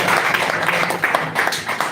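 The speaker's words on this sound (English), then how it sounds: "please can you just give him a round of applause again" Audience applause at a motivational talk session, a steady wash of many hands clapping that fills the whole moment, with faint voices mixed in underneath.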